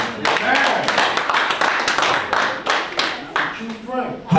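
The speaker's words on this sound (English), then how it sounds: "Pastor Ishmael, clap for him." Congregation clapping for a pastor during a church service, a dense, sustained patter of many hands, close and loud, with voices calling out over it.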